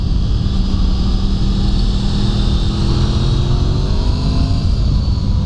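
A 1991 Honda VFR750F with its V4 engine pulls along at riding speed. It makes a loud, continuous drone with a smooth tonal hum and wind rush, and the pitch rises slightly and eases back.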